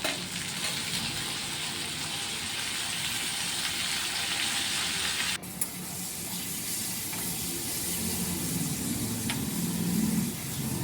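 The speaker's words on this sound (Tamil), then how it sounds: "அதுக்கு பிறகு கருவேப்பிலை, வெங்காயம், தக்காளி எல்லாம் போட்டு உப்பு கொஞ்சம் போட்டு நம்ம வதக்கி எடுத்துடணும்" Curry leaves, onion, tomato and salt sautéing in a pan, a steady close sizzle with soft hiss and occasional stirring scrapes, dipping briefly midway before carrying on.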